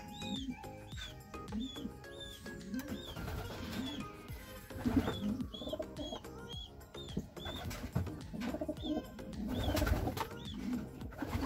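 Racing pigeons coo repeatedly in a loft after a long derby race, their soft rhythmic calls overlapping amid background chirps and rustling wing movement, fairly close and steady throughout.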